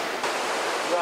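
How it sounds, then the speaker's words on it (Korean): A rushing mountain stream in Jirisan roars as a dense, continuous wash of water noise, loud and steady across the whole stretch. "산은 깊고 물소리는 우렁찹니다."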